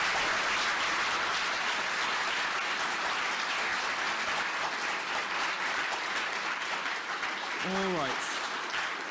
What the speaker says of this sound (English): So give one more round of applause for Christina.